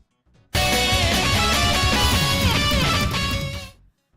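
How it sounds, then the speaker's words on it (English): A YouTube alert rings out as a short, busy musical jingle, loud and full from a sudden start, sustained evenly for roughly three seconds and then tapering off, with no talking over it. "And a YouTube alert sounds like this."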